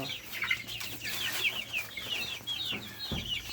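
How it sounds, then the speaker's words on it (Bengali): Farm chickens cluck and chatter steadily in a busy flock, a dense run of overlapping calls close by with no one speaking. "দেখেন আমার ফার্মিং মুরগিগুলা কত চঞ্চল সুস্থ"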